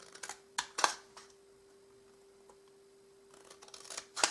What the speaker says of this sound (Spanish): Tanto en la parte de arriba como en la de abajo, aquí cortamos en recto.